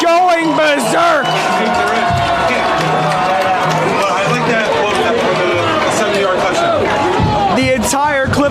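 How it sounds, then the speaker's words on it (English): A varsity football crowd cheering and shouting loudly and continuously, with overlapping voices, whoops and chatter filling the stands. "The crowd is going berserk."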